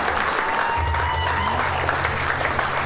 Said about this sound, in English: So round of applause for Rick.